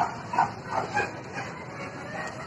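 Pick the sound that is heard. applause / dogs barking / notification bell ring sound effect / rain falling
dogs barking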